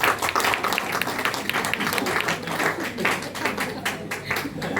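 An audience at a Marathi poetry event applauds continuously, dense clapping filling the whole stretch at an even, moderately loud level, with no talking over it.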